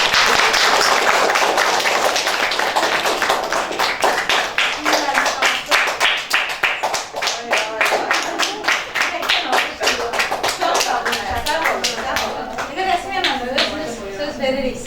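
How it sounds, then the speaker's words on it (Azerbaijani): An audience applauds teacher Rəsmiyyə Mahmudova at a painting master class, with a brisk burst of many hands clapping that builds and carries on for several seconds after a short spoken introduction. "Buna görə gəlin rəsmiyə müəlliməni alqışlayaq."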